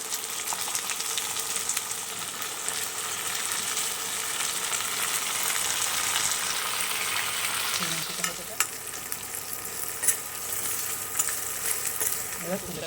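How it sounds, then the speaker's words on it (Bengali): Malabar spinach stalks frying with salt in a pan give a steady, close, broadband sizzle that fills the clip, with a few clinks and stirring scrapes near the end. "পুঁই মিচুরিটা একটু নুন দিয়ে শুধু ভাজা করে নেবো।"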